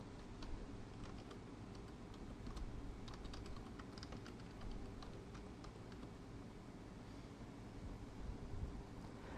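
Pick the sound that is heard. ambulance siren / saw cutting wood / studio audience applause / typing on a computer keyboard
typing on a computer keyboard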